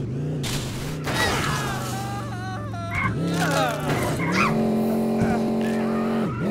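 A car in the video game Guts and Glory, on a construction-site level, revs and whines with rising and falling engine pitch and tire skids, while players talk over it.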